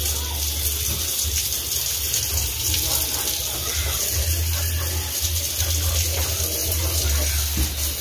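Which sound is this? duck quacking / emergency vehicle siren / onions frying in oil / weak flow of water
weak flow of water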